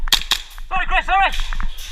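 Two sharp airsoft gun shots crack close by at an indoor night skirmish, followed by a whistle-like call and clatter; no clear speech.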